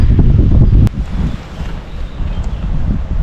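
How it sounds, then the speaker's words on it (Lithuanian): Strong gusts of wind buffet the microphone on the North Sea coast, loud low rumbling bursts that swell and ease in waves over a few seconds. "kai kartais vėjo gūsiai duoda."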